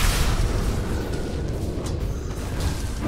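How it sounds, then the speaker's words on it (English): Dire's middle tower being destroyed in Dota 2: a dense, loud, continuous rumble of crumbling and booming impacts with scattered sharp cracks throughout. "You can tell Dire's middle tower is in trouble from the way it's being destroyed as I speak."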